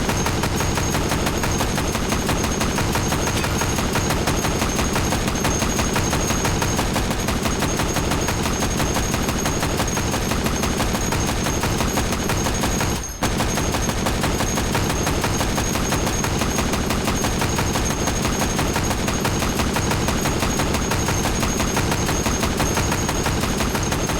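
Sustained full-auto gunfire from a World War II–era machine gun in the VR shooter H3VR, a dense, loud, continuous stream of rapid shots with one brief pause midway, no talking.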